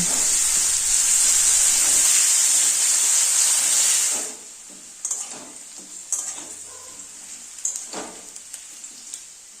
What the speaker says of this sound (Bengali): আলুগুলির মধ্যে সামান্য লবণ দিয়ে ভালো করে ভেজে নেব